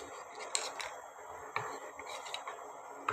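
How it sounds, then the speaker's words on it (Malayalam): A spoon stirs raisins and cashew nuts in a pan, giving soft scraping and rustling with a few light metallic clicks and taps, close and steady over a low background hiss. "ഇളക്കി കൊടുക്കുക."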